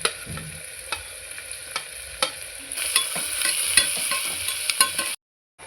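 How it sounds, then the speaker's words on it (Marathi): Tomatoes and capsicum sautéing in a pan for pav bhaji, a steady close sizzle with repeated scraping stirs, growing louder midway before cutting off abruptly near the end. "इथे मी टमाटर आणि शिमला मिरची थोडी परतून घेतली ती थोडीशी मऊ झालेली आहे"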